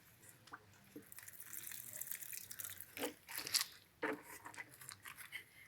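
Water splashes and trickles onto soil and leaves in uneven bursts, with a few sharper crunchy rustles, close by and fairly quiet.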